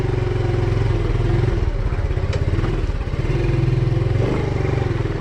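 A brand-new Suzuki Smash motorcycle runs close by, its engine holding a steady, throbbing mid-pitched hum with slight rises and dips in revs throughout.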